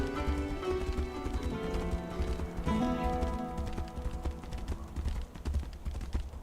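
Horse hooves clip-clop steadily in the video game Tainted Grail: The Fall of Avalon as a horse is ridden through a town toward a bridge, with soft game music underneath.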